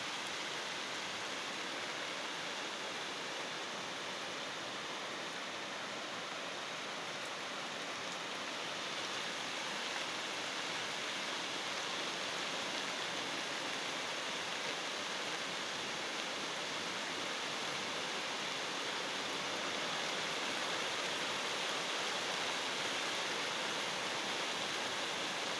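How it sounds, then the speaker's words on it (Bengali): Rain falls steadily, a dense, even hiss of drops that continues unchanged throughout with no voices. "বৃষ্টি শুরু হয়েছে, তো বৃষ্টিরও কিছু ভিউ দিলাম আপনাদের সাথে।"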